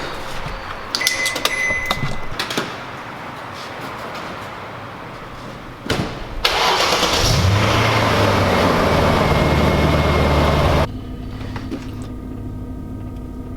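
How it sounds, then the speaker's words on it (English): After some clunks and shuffling, a BMW E39 engine cranks and roars to life loudly, holds a steady rumble, then drops to a smooth humming idle. "It's been a while since I started this car as well."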